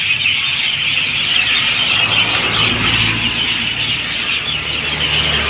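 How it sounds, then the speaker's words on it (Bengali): Crows and other birds squawk and squabble over roosting spots in a tree at dusk, a loud, dense, continuous chorus of calls with traffic hum underneath. "এই পাখিদের কোলাহলটা খুব সুন্দর লাগছে।"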